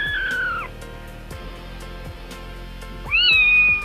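Kittens meow up close, with one drawn-out cry at the start and another rising, higher meow near the end, over faint soft clicks and handling noise and no talking.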